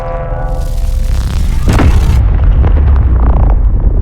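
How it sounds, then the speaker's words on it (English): A loud, sharp electronic blast with a crackling burst and a whooshing tail, followed by a lingering rumble, a railgun firing in the video game Space Engineers. "And that is the sound of the railgun firing."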